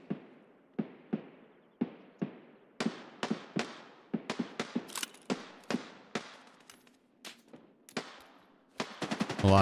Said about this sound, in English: A lot of shooting over there.